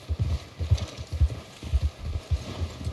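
Horse hooves trotting in Red Dead Redemption 2, a steady clip-clop rhythm of close, fairly loud hoofbeats over soft ambient noise, with no talk.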